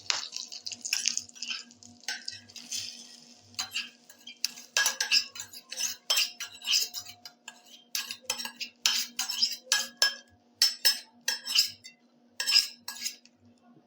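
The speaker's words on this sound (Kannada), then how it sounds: "ಈ ಒಗ್ಗರಣೆನ ನಮ್ಮ ಕೋಸಂಬರಿಗೆ ಮಿಕ್ಸ್ ಮಾಡ್ಕೊಳ್ಳೋಣ." A spoon stirs hot tempering with asafoetida into kosambari salad in a bowl during home cooking for Ganesha festival, with repeated close metallic clinks and scrapes in irregular bursts over a quiet background.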